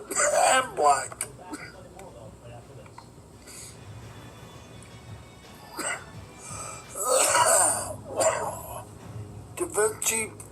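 Bursts of harsh, wheezy coughing from a sick man after using a Da Vinci vaporizer, clustered near the start, middle and end, with a raspy breathing and throat noises between fits.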